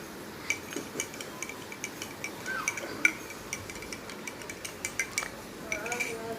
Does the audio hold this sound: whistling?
no